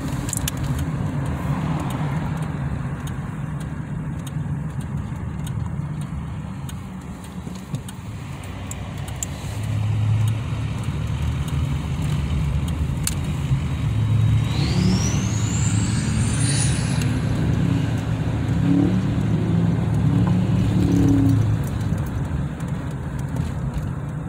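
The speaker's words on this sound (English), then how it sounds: "So much traffic today." Cars drive past in busy road traffic, a steady near-and-far wash of engines and tire noise with a faint rising whine midway, and no talk.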